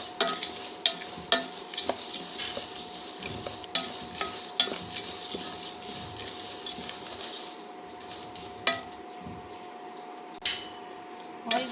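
Fenugreek seeds and groundnuts being stirred and dry-roasted in a pan: steady scraping and rattling of the spoon, with sharp clicks and taps against the pan under a faint sizzle, close and continuous.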